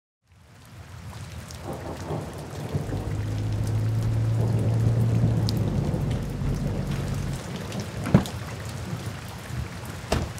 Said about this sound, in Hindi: बारिश रुकी नहीं क्या अब तक?